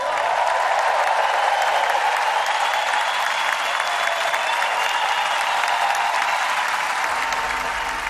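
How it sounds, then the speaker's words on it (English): An audience at a political event bursts into sustained, dense applause and cheering as a woman approaches on stage, loud and steady throughout with no voice rising above it. "The audience erupted as she approached Trump"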